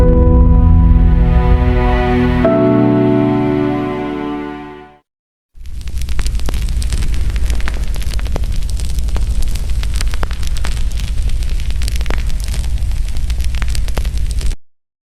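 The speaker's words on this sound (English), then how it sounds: "Oh shit, fire." An animated kung fu fight scene where a tonal burst cuts off, then a long crackling roar of fire and explosion rushes in loud and dense, with no talking.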